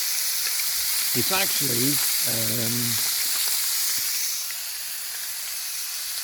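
Maple cured streaky bacon sizzles in a pan outdoors overnight in the woods, a steady close hiss running throughout, while someone briefly talks over it and the fizz eases slightly toward the end.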